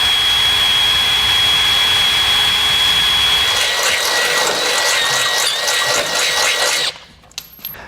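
A power drill enlarges a hole for a Blue Ox base plate on a 2017 Ford F-150, giving a steady, loud, high whine that runs nearly continuously, then cuts off abruptly near the end.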